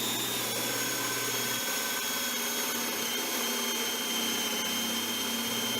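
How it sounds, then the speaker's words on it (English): A small portable drill fitted with a Forstner bit bores into plywood with a continuous high whine and a steady grinding hum, constant in loudness throughout. "that's what you see me doing here with a small portable drill fitted with a Forstner bit"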